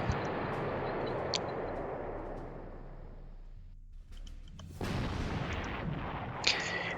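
Artillery fires in a WWII strategy video game: a sustained roaring barrage fades into a brief lull, then a fresh burst of blasts and rumble resumes. No one speaks.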